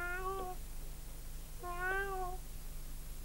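A performer's voice imitates a cat meowing during a Greek Karagiozis shadow-puppet play. Two clear, drawn-out meows come about a second and a half apart against a quiet background hum.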